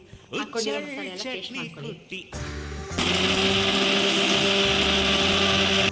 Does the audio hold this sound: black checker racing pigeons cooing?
no